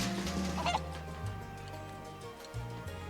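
Chickens in Final Fantasy VII Rebirth give a few short clucks near the start over in-game background music, brief and fairly close, then the music carries on alone.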